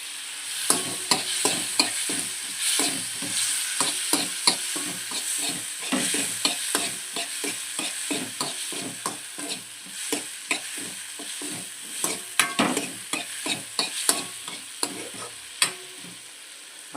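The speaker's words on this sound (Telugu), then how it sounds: "టమాటా యాడ్ చేద్దాం టమాటా బాగా మిక్స్ అయ్యేటట్టు కలుపుదాం" Tomatoes frying in a pan for egg curry are stirred steadily, a continuous sizzle under dense rhythmic scraping strokes of a spoon, close and clear, with no talk.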